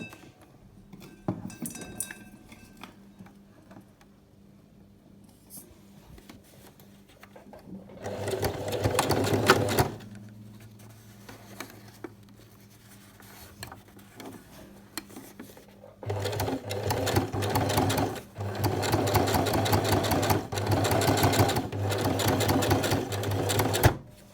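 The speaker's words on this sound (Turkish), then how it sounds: "Dikişimi çekmeye başlıyorum" A sewing machine runs in two long bursts, stitching a thin seam along the edge of a shirt's stand collar. Quieter handling and faint clinks fill the gaps between the runs.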